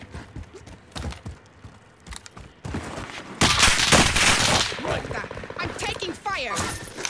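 Gunfire in the video game Call of Duty: scattered shots at first, then a loud sustained burst of rapid fire with crashing impacts, and game voices and players talking in between.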